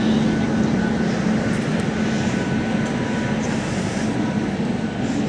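Passenger train number 02288 from Bikaner to Sealdah rolling on an Indian rail line, a steady loud rumble and hum heard from inside a coach, unbroken and even for the whole stretch with no voices.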